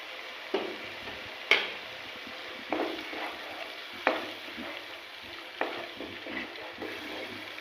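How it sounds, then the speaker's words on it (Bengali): Spices frying in oil in a pan over a high gas flame for vegetarian Kashmiri dum aloo, a soft steady sizzle broken by several sharp stirring clinks and scrapes. "গ্যাসের ফ্লেমটাকে একটু জোরে দিয়ে একটু ভালো করে ভেজে নেব মশলাটাকে"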